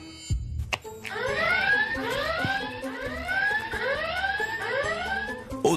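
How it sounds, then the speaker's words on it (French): An alarm in a TV reality show house sounds as a repeating series of rising electronic whoops, five or six sweeps in a steady rhythm, loud and clear with a brief thud before it starts. "pourquoi as-tu déclenché l'alarme des secrets?"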